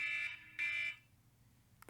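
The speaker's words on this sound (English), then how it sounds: "That was my alarm to upload the podcast." An alarm sounds as a reminder, two short bright electronic beeps close together, fairly quiet and alone, followed by near silence.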